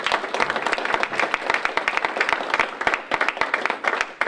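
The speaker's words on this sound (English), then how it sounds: "Let's give them a round of applause." Audience applause fills a Meet the Candidates event for the American Fork city council and mayoral primaries, a dense, steady patter of many hands clapping close by with no talking over it.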